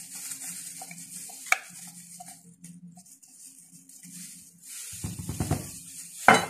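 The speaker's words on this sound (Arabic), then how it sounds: "وابتدي اعجن فيها كويس" Hands knead dough made with flour, ghee and yeast for date-filled karkeesh, giving faint, soft squishing and rustling sounds throughout and a louder sticky slap and squelch near the end.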